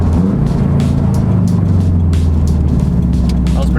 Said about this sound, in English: Downshift to third.